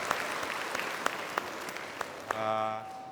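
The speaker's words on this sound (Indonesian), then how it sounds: "kita berikan tepuk tangan untuk ketiga orang volunteer kita yang curhat pada hari ini" A studio audience at a motivational talk show claps steadily for three volunteers, moderate and even, before a musical sting cuts in near the end.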